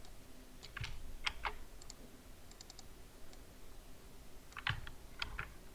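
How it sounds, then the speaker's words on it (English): Computer keyboard typing in short bursts of clicky keystrokes, a quick cluster early and another near the end with quiet gaps between, close and fairly soft in a quiet room. "I'll type here Rise"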